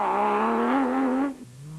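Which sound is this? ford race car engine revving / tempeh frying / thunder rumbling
ford race car engine revving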